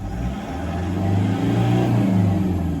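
A repaired Toyota 1KD diesel engine idles and revs steadily, a close, continuous low rumble that swells slightly in the middle and stays loud throughout.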